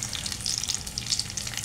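Chopped ginger, garlic and thick-cut onion sizzle in hot mustard oil in a pan. The frying is a steady, close crackle with no talking.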